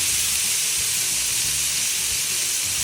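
Steak with thyme sizzling in a hot pan as it is flipped with tongs, a loud continuous close hiss of fat and juices with no speech.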